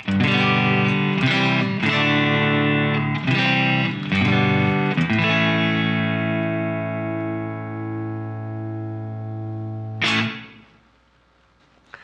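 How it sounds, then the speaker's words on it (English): A Fender Modern Player Telecaster played clean through its neck pickup rings out with several strummed chords, then one long sustained chord that fades, and a final sharp strum that quickly dies away to near silence. "And then just the Tele pickup in the neck."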